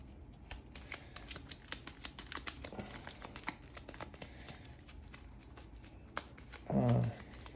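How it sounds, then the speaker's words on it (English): A legend deck of cards is shuffled during setup of the Joan of Arc board game: a quiet, rapid patter of crisp papery ticks runs throughout and ends in a brief, louder rustling burst. "So the legend deck will be shuffled up."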